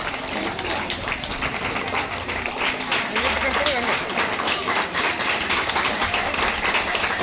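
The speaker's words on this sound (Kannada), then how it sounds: "ಅವರಿಗೂ ಕೂಡ ಜೋರಾದ ಚಪ್ಪಾಳೆ ಮೂಲಕ ಅವರನ್ನು ಬರಮಾಡಿಕೊಳ್ಳೋಣ" An audience claps steadily through a flower tribute to portraits of freedom fighters. The loud applause continues for the whole stretch and is mixed with crowd voices.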